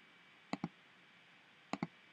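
Two pairs of sharp double clicks from a computer mouse, spaced about a second apart, close and crisp over a quiet background hiss, with no talking.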